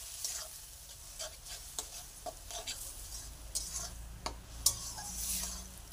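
Fried leafy greens are stirred in a pan with fish curry sauce, giving a soft ongoing sizzle broken by scattered sharp clicks and scrapes of a spoon against the pan, faint and without talk.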